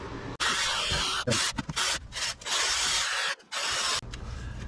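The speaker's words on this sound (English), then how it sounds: "I'm gonna get the wire wheel out and clean it up" A wire wheel scrubs metal on a 2020 Toyota 4Runner body mount, running in loud abrasive bursts broken by several short pauses, close up with no talking.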